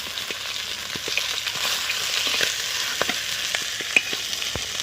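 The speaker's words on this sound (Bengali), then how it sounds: "মাছের মাথাগুলো ছেড়ে দিলাম, ভেজে নেবো" Rohu fish heads sizzle steadily in hot oil in a kadai, a dense crackling fry with scattered louder pops throughout and no voices.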